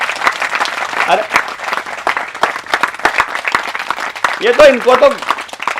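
Audience applause from a studio crowd bursts out in several waves of clapping, with someone talking loudly over it.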